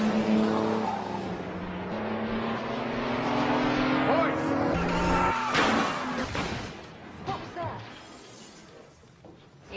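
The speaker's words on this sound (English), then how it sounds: "Eli just crashed his car into the front of the house." Car skids and smashes into the front of a house, a sustained engine and tire roar building into a loud crash with scattered debris, with music and voices around it.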